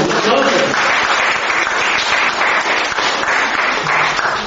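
A confirmation class bursts into loud, continuous clapping after a student's answer, a dense round of applause from the group with voices mingled underneath.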